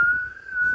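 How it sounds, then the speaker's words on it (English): Steam whistling from a rice cooker's steam hole once the rice has finished cooking, a thin steady tone holding almost unchanged for under a second, close and fairly quiet over faint background noise. "The rice is done cooking. You can tell too, because the steam hole is shooting out steam."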